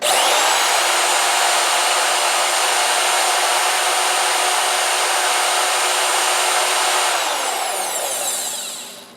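A Milwaukee portable band saw motor under repair runs at a steady, loud, even whine with no voices, then spins down and fades out over the final second.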